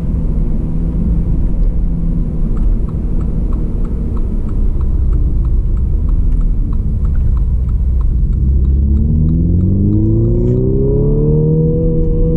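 A 2018 Mini Countryman John Cooper Works drives along with a steady, loud engine rumble and road roar, and the pitch rises near the end as the engine revs up under acceleration.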